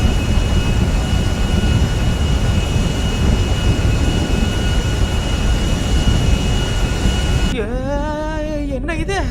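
An airplane in flight gives a loud, steady engine roar that fills the whole stretch, with a warbling tonal sweep joining near the end as the roar eases slightly.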